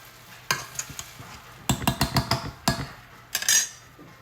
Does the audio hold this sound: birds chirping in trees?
no